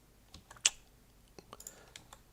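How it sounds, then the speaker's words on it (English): Scattered light clicks of arrow keys being pressed on a computer keyboard, a handful of separate taps with one sharper click, faint and close with no talk. "You can also use the arrow keys"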